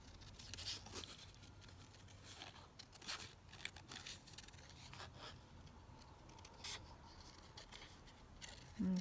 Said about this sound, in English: Let's just cut this rose out.